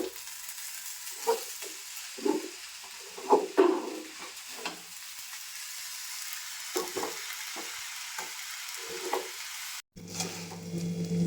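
Soaked aliv (garden cress) seeds and flaxseed laddu mixture with jaggery powder stirred in a pan, giving soft, intermittent scraping and sticky stirring strokes close up, with a faint sizzle underneath and no talk.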